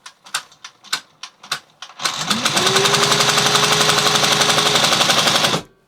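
Leather stitching machine driving its needle through boot leather, starting with a few slow separate punches, then running into a loud, steady, rapid mechanical rattle with a rising motor whine for about four seconds before stopping.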